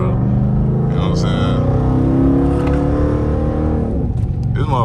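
A second-generation Dodge Charger R/T with mid and rear mufflers removed but catalytic converters kept rumbles in a loud, deep, steady exhaust drone that rises into a rev, heard from inside the car with someone talking over it.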